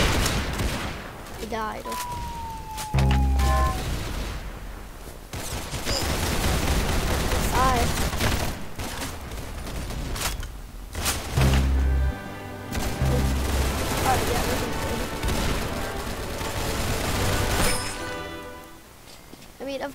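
Repeated gunfire from a weapon in a fast online shooter game, bursts of shots and booms spread through the whole stretch with a voice talking over them and game music in the background.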